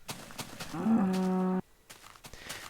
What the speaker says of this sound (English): I got cows!